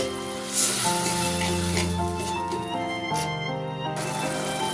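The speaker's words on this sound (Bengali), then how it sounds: "সামান্য জল দিয়ে মশলাটা কষিয়ে দিচ্ছি।" Ginger, garlic, green and dried chilli paste with black pepper cooks in a pan with a splash of water, a steady close bubbling sizzle running throughout, with a low drone and faint clinks underneath.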